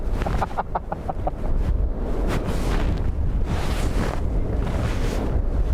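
Strong storm wind gusts at Dublin Airport during Storm Bram, 40 to 50 knot gusts buffeting the microphone in a loud, steady roar with a few brief chirping tones early on.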